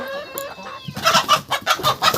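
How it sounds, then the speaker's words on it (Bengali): Village roosters and hens: a drawn-out crow-like call opens, then a run of loud, close, rhythmic clucks follows in quick bursts, with no voices. "এদিকে এরা মোরগ আছে হ্যাঁ, এখানে আছে অনেকগুলো আছে"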